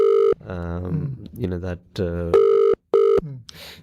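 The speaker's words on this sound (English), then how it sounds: "Somebody's phone is ringing." A mobile phone rings during a live broadcast from a studio at a Jalsa Salana gathering, its loud electronic tone pulsing in repeated bursts between stretches of a man's nearby speech.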